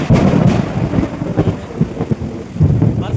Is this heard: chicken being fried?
no